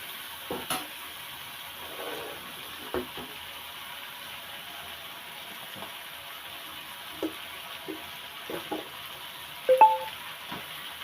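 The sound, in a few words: frying broiler chicken in a pan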